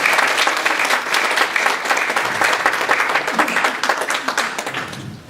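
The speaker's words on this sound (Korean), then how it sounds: "두 분께 감사의 박수를 부탁드립니다." An audience at a first-anniversary ceremony for a Christian news outlet breaks into sustained applause, a dense, continuous wash of many hands clapping that fades slightly toward the end.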